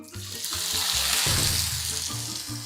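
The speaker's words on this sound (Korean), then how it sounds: "센 불에서 메추리알을 노릇노릇하게 튀기듯이" Loud, steady sizzling and crackling of food frying in hot oil, with soft clinks and stirring noises throughout.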